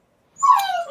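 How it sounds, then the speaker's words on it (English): A dog lets out one close, high-pitched whimper that rises into a drawn-out whine, starting after a moment of silence and lasting about half a second. "That's a dog."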